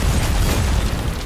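Loud, continuous animated explosion effect from an anime-style Breaking Bad scene, a dense rumbling boom that holds steady with heavy low-end roar throughout.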